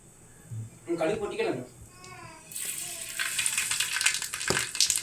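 Mustard seeds spluttering in a very hot pan of oil for beef curry: after a brief stretch of talking, a dense crackling, popping burst takes over and grows louder.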